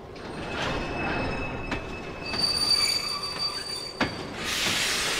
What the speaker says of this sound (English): Diz's Train